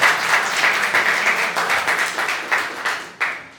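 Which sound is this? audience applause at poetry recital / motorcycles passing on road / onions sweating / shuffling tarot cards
audience applause at poetry recital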